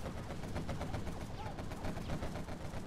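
A Spectre gunship in a video game fires a dense stream of rapid, muffled shots at quads, continuous and fairly quiet, mixed with rumbling background noise.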